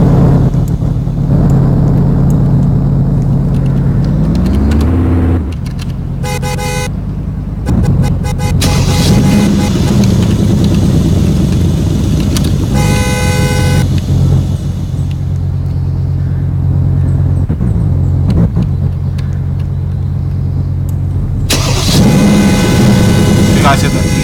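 A Mercedes CLA250 engine rumbles steadily from inside the car, with a few brief clicks and a rising rev near the end as it pulls away, while a voice talks over it.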